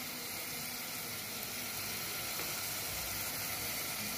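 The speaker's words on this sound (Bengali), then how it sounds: "আমি এখন এখানে একটু পানি অ্যাড করে দিয়ে বাকি গুঁড়া মশলাগুলো দিয়ে দিব," Water added to garlic frying in a pan sets off a continuous, even hissing sizzle that stays faint and unbroken throughout.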